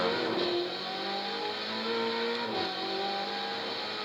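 Ferrari 488 GTB, a rear-wheel-drive sports car of roughly 600-odd horsepower, accelerating with rising engine tones that climb and shift through gears, close and steady with no talking.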